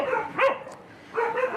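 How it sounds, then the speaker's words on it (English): Several dogs on a South Korean dog meat farm bark and yelp in short bursts, fairly close, with a whimpering tone between calls and no talking. "there are about 170 dogs on this farm that will be rescued"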